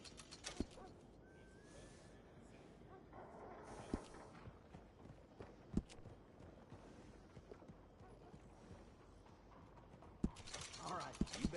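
Horse grooming in Red Dead Redemption 2, with soft brushing and a few sharp hoof clops and taps across a quiet stable backdrop, while a voice talks intermittently.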